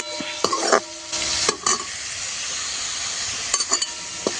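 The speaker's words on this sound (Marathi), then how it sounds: "परतून घेऊया छान." A chikki vegetable dish sautés in oil over a wood-fired stove, its steady close sizzle broken by a few scraping stirs and light clinks of a spoon against the pan.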